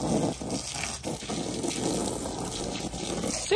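Water runs from a hose or tap into a backyard pool, a steady close gush with light trickling and a brief squeak at the end.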